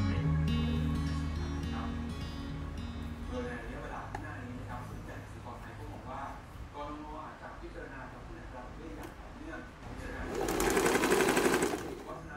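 A sewing machine runs steadily, stitching the handles of a pleather and canvas bag, its motor whirring close and continuous for the whole stretch and rising to a louder burst near the end.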